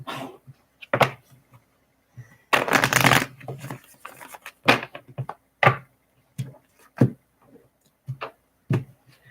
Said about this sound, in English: So Tracy, a card came out as I was just shuffling